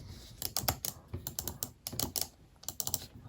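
Clicking from the buttons of a Philips SPK9403B gaming mouse, a 129-lira budget model, in sharp bursts of rapid taps with short pauses between, close and moderately loud, with no talking.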